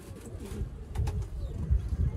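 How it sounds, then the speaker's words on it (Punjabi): A rare Kasuri pigeon coos in low, soft rumbling bursts on a rooftop loft in Sialkot, fairly close and quiet, with faint higher clicks behind. "ਇਹ ਇੱਕ ਬਹੁਤ ਹੀ ਨਿਆਬ ਪਰਿੰਦਾ, ਬਹੁਤ ਆਲਾ ਕਸੂਰੀ ਕਬੂਤਰ ਆ।"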